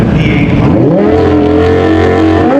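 A Mercedes AMG GTR with a V8 engine roars loudly at a car meet, its revs rising and then holding in a strong, sustained drone.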